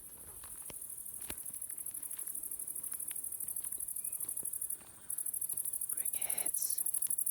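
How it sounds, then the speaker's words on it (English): Crickets chirp steadily in a garden, a constant high shrill trill that runs through the whole stretch and drops out only briefly once. Soft clicks and rustles sit faintly underneath. "Crickets."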